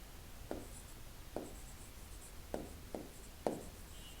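Pen or pencil writing out an arithmetic solution for rice sold per hour, heard as five short, close scratchy strokes spaced about a second apart, with no talking.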